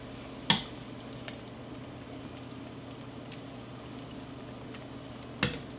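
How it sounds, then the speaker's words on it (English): Broccoli cooks in a pot of boiling water, giving a faint, steady bubbling hiss broken by two sharp clinks. "Let's stick that in our hot water, and we're going to cook that for roughly 45 seconds to 1 minute"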